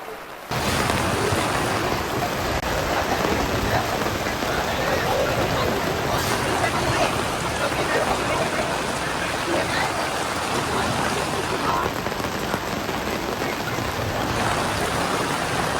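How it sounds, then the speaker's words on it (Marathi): Heavy rain pours down at an open-air Thursday village market, a dense, loud, continuous hiss and patter on surfaces that fills the scene, with faint voices beneath. "पाऊस आता मोठ्यानं दिलो."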